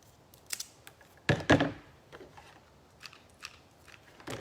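Trimming the back of a rustic wood slab centerpiece with an orchid, heard as a few close, crisp snips and cuts, with one loud double crunch in the middle and soft handling noises between.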